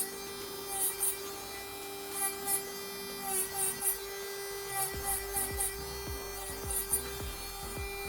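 Electric nail drill with a carbide bit debulking a badly lifted acrylic nail: a steady high-pitched whir with faint hum, pitch dipping briefly as the bit touches the nail in short repeated passes, close and continuous.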